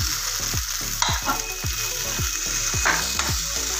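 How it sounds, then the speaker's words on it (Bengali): Food frying and being stirred in a pan while cooking flattened rice pulao with vegetables, a steady loud sizzle with regular scraping strokes of a spatula about twice per second, with no talking. "ফাইনালি এবারে ভাজাটা হয়ে এসছে"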